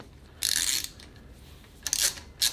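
Short bursts of a ratchet wrench snugging timing gear pulley screws on a Volvo B5254T engine, three quick clicking runs close by with pauses between.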